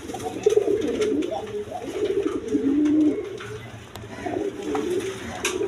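Satin pigeons coo in low, rolling phrases throughout, several birds overlapping at close range with steady background noise and no talking.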